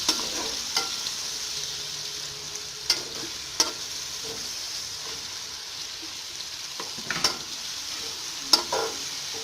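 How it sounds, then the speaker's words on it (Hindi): Okra frying in a pan with tomato, green chili and onion for bhindi masala, giving a steady close sizzle with a few sharp clatters from stirring and no talk. "अब मैं इसमें टमाटर और हरी मिर्च डालने लगी, और अब मैं साथ प्याज भी डाल दूँगी।"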